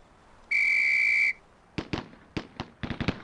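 A single sharp, sustained whistle blast lasting under a second signals the officers in the PC game Police Quest SWAT, followed by a ragged series of loud gunshot cracks in quick pairs and bursts.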